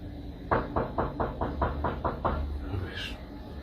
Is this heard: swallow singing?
no